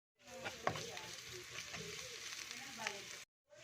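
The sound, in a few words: garlic frying in oil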